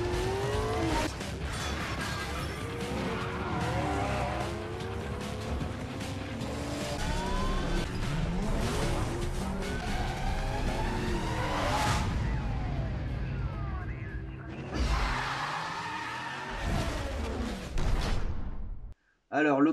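A BMW M3 GTR racing in Need for Speed: Most Wanted, its engine revving up and down through gear changes with tire screeches, under continuous game sirens and voices, ending abruptly.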